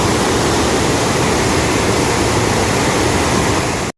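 Diamond Falls near Sakharayapatna in Chikkamagaluru district, a natural waterfall pouring over exposed boulders, makes a loud, dense, unbroken roar of rushing water up close, with no voices, before it cuts off abruptly.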